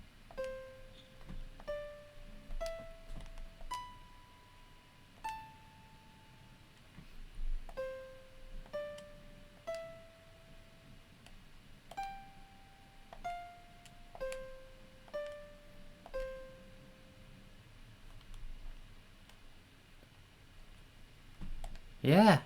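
A simple tune from Final Fantasy VII plays as a series of short clicky, plucked notes rising and falling in a repeating melodic pattern, moderately quiet and mostly alone, with a loud burst at the very end.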